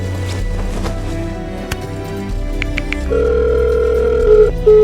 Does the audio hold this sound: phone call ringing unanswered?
yes